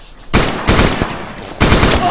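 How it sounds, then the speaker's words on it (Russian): Bursts of machine gun fire in the survival shooter DayZ come loud and close, three sharp volleys of rapid shots separated by brief pauses. "Пулемет трудно не услышать."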